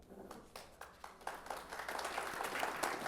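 Scattered claps from a lecture dinner audience start sparse and individual, then build into fuller, faint applause over a few seconds.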